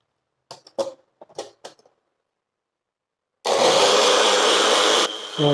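Some light handling taps, then a kitchen mixer grinder bursts into a loud, steady whir while blending watermelon, lemon, amla and ginger into juice, running for about two seconds before briefly stopping and restarting.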